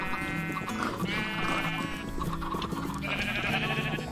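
Several Minecraft sheep bleat close by in quick, overlapping calls that keep going without a break, with no talking.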